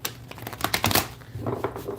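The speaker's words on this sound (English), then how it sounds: "one more shuffle for Taurus because I've been shuffling" Tarot cards being shuffled: a quick, rustling flutter of cards riffling and slapping together in rapid bursts, close and moderately loud, with no talking.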